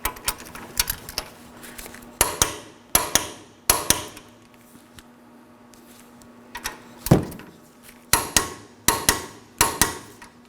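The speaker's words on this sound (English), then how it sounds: "I'm going to be torquing each of these to 122 foot-pounds." A torque wrench tightens the brake caliper bracket bolts on a 2013-2019 Nissan Sentra, giving loud, close ratcheting clicks in groups separated by short pauses over a low steady hum.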